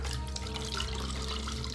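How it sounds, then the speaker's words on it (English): Water is scooped from a barrel and splashed for rinsing as a video game sound effect, a close, steady liquid sloshing and trickling over a low background hum. "Scooping water from the barrel, Konoe rinsed his mouth and washed his face and hands."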